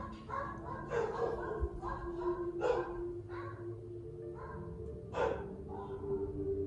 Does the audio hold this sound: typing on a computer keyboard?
no